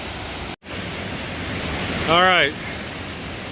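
Steady broadband rush of a high-volume waterfall on Steels Creek, North Carolina, roaring continuously at close range through a brief dropout, with someone speaking over it near the end.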